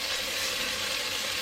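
Chopped poblano peppers softening in a hot pan, giving off a steady, even sizzle and frying hiss, close and uninterrupted, with no voices.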